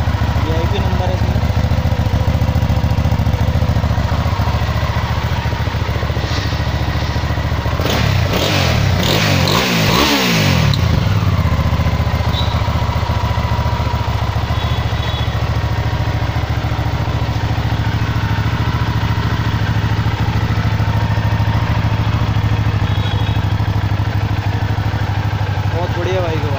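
A Harley-Davidson Night Rod motorcycle with a very heavy silencer idles steadily on a street in Karol Bagh, New Delhi, with a brief loud rev burst midway, while people talk nearby.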